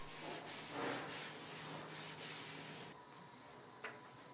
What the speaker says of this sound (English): Craftsmen run their fingers over the surface to be sure that even the slightest rough spots, even those not visible,